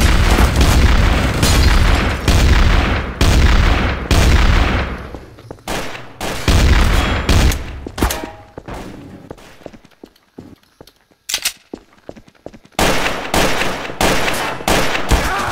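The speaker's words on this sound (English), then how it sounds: "You sniped somebody, right?" Sniper rifle fire and other gunshots in the online shooter game Trouble in Terrorist Town, with loud repeated booming reports in rapid bursts, then sparser sharp cracks and a final cluster of shots.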